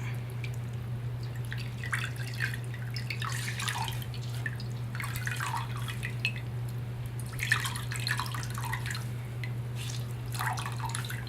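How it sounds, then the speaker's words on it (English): Cloth soaked in a bowl of plain water wrung out by hand, giving scattered splashy drips and trickles in bursts over a steady low hum, fairly close and moderately quiet. "So this is just water in this bowl. I'm gonna wring it out."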